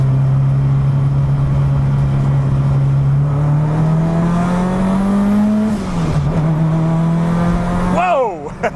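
A cheap Honda Civic with a grabby clutch accelerating in second gear, the engine note rising steadily as revs climb, then a dip at a shift and a brief rev swell at the end, loud and close from inside.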